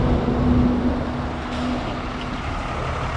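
A FreshDirect delivery truck rumbles past in New York City traffic, a loud, steady low engine drone with some hiss, heard close from a bicycle with no talking.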